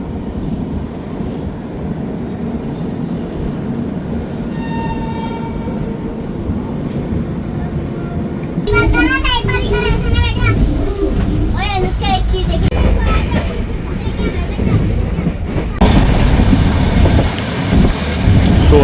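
A passenger express train, No. 22479 New Delhi–Lohian Khas, rumbles steadily along the rails, with a loud rushing roar and some rattling; faint voices and a brief whistle-like tone appear early on.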